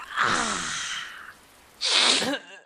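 Two loud, close human sneezes, the first a drawn-out breathy burst and the second a sharper explosive one after a brief pause, with no talking.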